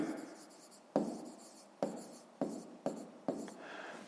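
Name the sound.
writing down math inequalities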